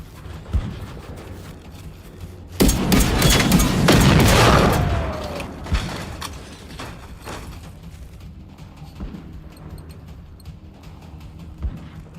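Gunfire in the video game Generation Zero, scattered single shots with one loud, dense burst of firing a few seconds in, then more sparse distant shots over a steady low background.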